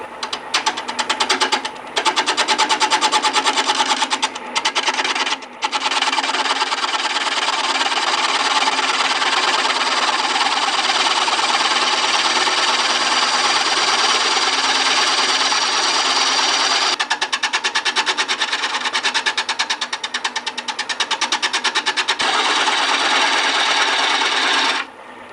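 A wood lathe turns a natural-edge winged bowl at about 550 RPM, a loud, steady mechanical whir and hum running continuously with a few brief breaks and no voices.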